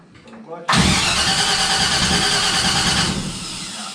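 A Henry J gasser with a wiring fault cranks briefly, then its engine catches and roars loudly at a steady high idle for a few seconds before easing off slightly.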